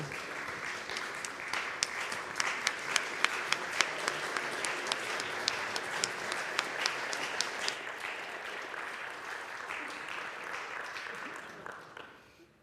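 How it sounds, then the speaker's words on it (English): A meeting crowd gives its board a standing ovation, a long, full burst of clapping with a few sharp individual claps standing out, sustained before gradually thinning and fading away at the end. "I think we should give our board a standing ovation, frankly."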